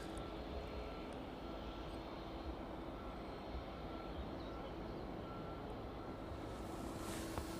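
A jet aircraft idles on the runway at East Midlands Airport, heard as a distant, steady broadband engine rumble and roar with a faint tonal whine, continuous and without speech.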